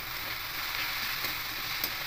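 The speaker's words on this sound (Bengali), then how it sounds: "এবার ঢাকা খোলা অবস্থাতে একটু নাড়াচাড়া করে নেব, যাতে আরেকটু শাকগুলো ভাজা ভাজা হয়ে যায়" Nota greens with potatoes fry in an open pan, a dense steady sizzle with faint stirring scrapes, close and unbroken for about two seconds, with no talking.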